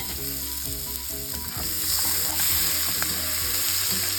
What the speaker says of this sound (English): And then we'll throw our garlic in. Stir that up a little bit.